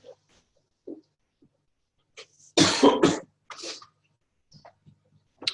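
A burst of loud coughing close by, with a few smaller throat sounds and breaths before and after, otherwise quiet.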